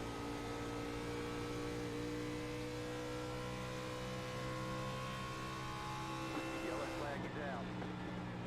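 A race car engine at Texas Motor Speedway, heard onboard during a lap in an Xfinity Series race, droning steadily with a high sustained pitch, loud and continuous, with a brief rising sweep near the end.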